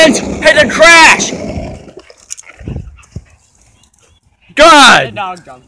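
A dog whimpers and yips in excited bursts in the video game Unhumble Beginnings, with a long high whine near the end, while a person shouts over it.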